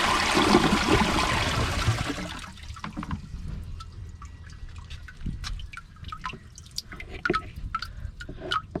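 A Kohler Highline bucket-tank toilet flushes rubber ducks: a loud rush of water for about two seconds, then sparse drips and trickles echo in the bowl as the tank refills.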